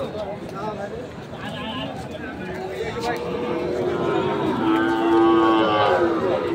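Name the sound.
Sahiwal breed bull calves mooing at cattle market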